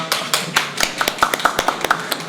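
A small live studio audience at the close of a broadcast claps, a short burst of quick, crisp hand claps, close and fairly loud, with no talking over it.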